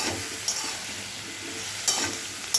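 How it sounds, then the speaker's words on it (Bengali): Ridge gourd and potato with salt and turmeric stirred in a hot pan, a steady close sizzle with a few sharp spatula scrapes breaking through. "যেমন একটু নুন দিয়ে দিলাম, হলুদ দিলাম, ভালো করে নেড়ে নেবো"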